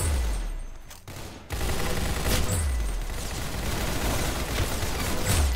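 Rapid gunfire from the Roblox shooter game Arsenal, loud and dense, with sustained automatic bursts running almost continuously across the stretch and only a brief dip near the start.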